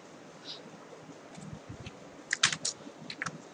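A computer keyboard tapped while working in Unity 3D: a scattered handful of light, close key clicks over a quiet room hiss, with no speech.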